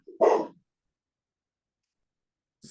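A dog gives a single short bark or huff close by, followed by silence and a brief faint sound at the end.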